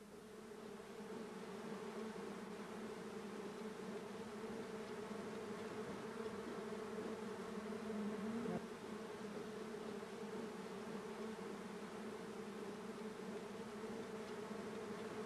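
Honey bees buzz steadily at a hive during a hot-weather harvest, a dense continuous drone of many wings holding close and even throughout with no voices.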